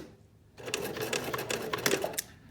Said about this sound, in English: I'm going to sew the slash edge first.